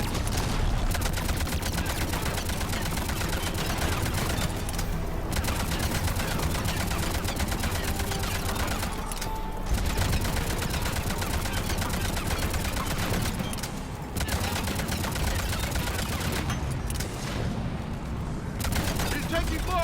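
Dense, sustained gunfire in a Mass Effect 3 battle, rapid automatic bursts and booming impacts hammering nearly nonstop with brief lulls, loud and close, with voices mixed in.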